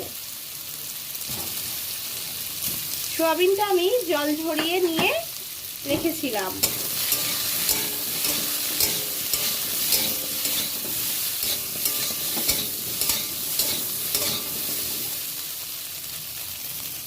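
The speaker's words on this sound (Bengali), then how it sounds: "আলুটা আমার ভাজা হয়ে এসেছে, এর মধ্যেই আমি সোয়াবিনটাও দিয়ে একটু ভেজে নেব।" Soybean chunks and potato sizzle steadily in oil in a pan, a continuous close frying hiss with light stirring, preceded by someone talking briefly at the start.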